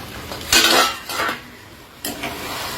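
A lid comes off a pan of cooking chicken legs with a few close metallic clanks and scrapes, a loud first knock followed by lighter rattles, over a faint sizzle.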